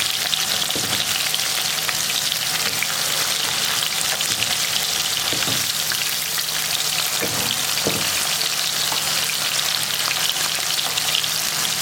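Pork chops fry in a pan over medium-high heat, giving a loud, dense, continuous sizzle with faint occasional knocks, and no one speaks.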